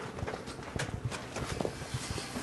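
An old gray mare walking, her hooves clip-clopping in an irregular soft rhythm at close range, faint and without talk.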